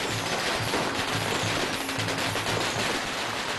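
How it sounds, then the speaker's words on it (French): Firecrackers going off during a Chinese wedding procession in a small village, a dense continuous crackle of rapid overlapping bangs, loud and sustained with no pauses. "ils font encore plus de bruit avec leurs pétards et leurs instruments"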